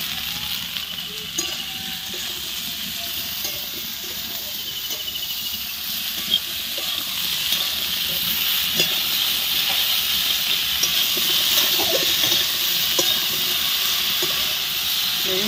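Ridge gourd sizzles and steams in a hot pan, a steady bright hiss that grows a little louder partway through, with faint stirring clicks.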